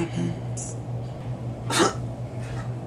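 A man gives a single sharp cough near the middle of a quiet room, faint background hum and a short vocal sound just before it.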